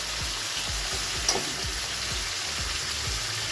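Prawns coated in salt and turmeric sizzle steadily in hot oil in a pan, with soft thumps of stirring repeating at a regular rhythm beneath the constant crackle.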